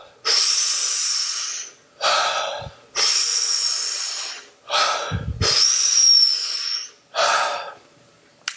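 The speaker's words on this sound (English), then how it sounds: "The Wim Hof method of breathing is whereby you take in deep breaths" Deep, forceful breaths in the Wim Hof breathing method, drawn in a steady series of long airy inhales and exhales with short pauses between, close and loud with no talking.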